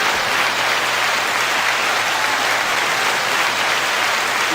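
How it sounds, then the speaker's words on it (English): A dense, even wash of crowd applause plays as a sound effect on a podcast, steady and loud throughout with no voices over it. "9-second applause."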